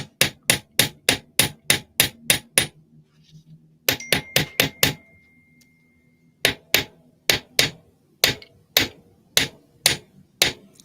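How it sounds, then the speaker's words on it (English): A hammer strikes a metal ornament earring to flatten it evenly, landing sharp, ringing blows in quick rhythmic runs separated by short pauses, close by with no talking. "I'm trying to hammer it so it's super even."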